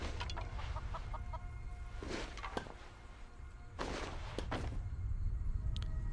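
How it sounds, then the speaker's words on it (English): Chickens clucking in the video game Skyrim, giving several short clucks at irregular intervals over a steady low ambient rumble, moderately close but quiet. "Chicken. Do not attack chickens."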